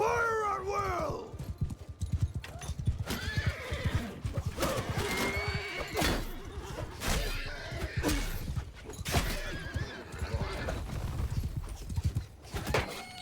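Cavalry battle in Mount & Blade II: Bannerlord with Aserai horsemen: horses whinny and neigh while hooves clatter continuously amid clashing combat noise, loud and busy throughout.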